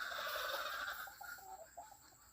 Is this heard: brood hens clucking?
yes